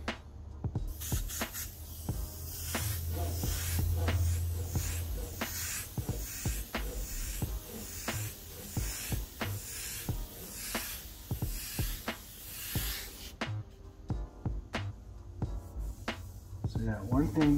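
A Grex XGi2-ES airbrush sprays paint in repeated short hissing bursts at close range, with a steady hiss of air underneath and a person talking over it.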